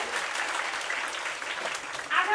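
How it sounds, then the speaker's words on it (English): An audience at a school annual day celebration applauds and cheers steadily throughout, a dense wash of clapping with a brief louder swell near the end. "Loud cheer for that"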